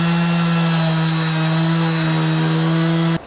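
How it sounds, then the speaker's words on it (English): A Makita sander works a rough, hard piece of wood, giving a loud, steady motor whine with a strong constant tone that runs unbroken for about three seconds and then cuts off abruptly. "much harder to sand than the previous one"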